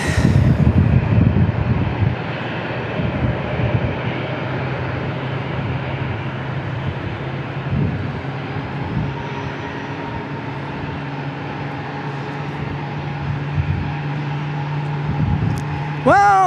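An American Airlines airliner passes overhead at San Diego International Airport as a steady engine drone, loudest at first and then holding level under a low hum, with a brief high whine near the end.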